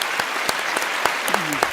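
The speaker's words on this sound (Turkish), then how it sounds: "Her ikinize kocaman alkışlar lütfen." A studio audience on the Turkish TV word-quiz show Alfapetek claps in sustained, dense applause, with a voice briefly audible over it.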